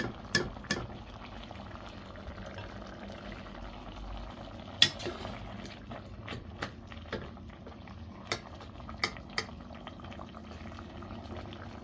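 Chicken necks simmer in a covered pot for a Moroccan chicken-neck stew, giving a steady bubbling hiss throughout with occasional sharp clicks and pops near the pot.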